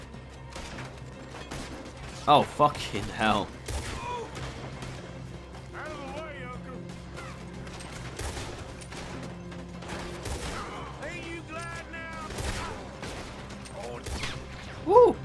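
Gunfire in the Western game Red Dead Redemption 2, several sharp shots and bursts scattered across a noisy shootout, mid-distance, with a voice talking and swearing between them.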